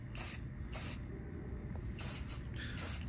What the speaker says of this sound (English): We're just gonna spray all up in there.